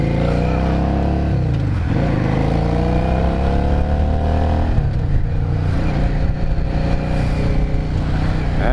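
A 2003 Yamaha Drag Star 650 cruiser motorcycle being ridden, its engine droning loudly and close with rising and falling revs, a shift-like dip near the middle before pulling again.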